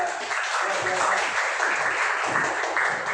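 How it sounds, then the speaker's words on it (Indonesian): A classroom audience claps steadily and fairly close for about three seconds, a continuous patter of many hands with no voices over it. "Beri aplaus untuk Eka dan Okta."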